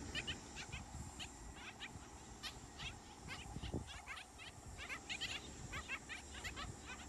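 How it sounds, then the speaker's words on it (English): Repeated short, harsh barking calls from a flock of black skimmers, scattered and overlapping at a distance over steady outdoor background noise. "That barking noise is the black skimmers."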